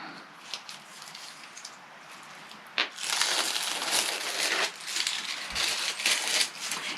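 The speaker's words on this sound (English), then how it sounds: "I'm going to peel off the liner." Backing liner is peeled off adhesive glitter letters on a card, a close crackling, tearing rustle that grows louder and fuller partway through and continues in bursts.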